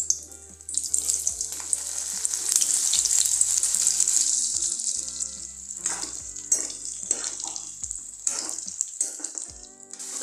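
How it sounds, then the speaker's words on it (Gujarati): Eggplant pieces frying in hot oil in a pan: a bright, steady sizzle swells and then eases, broken by a few clinks of a utensil against the pan, with no voices. "તો તેલ આપણું ગરમ જ છે તો પહેલા આપણે રીંગણાને તળી લેશું થોડાક."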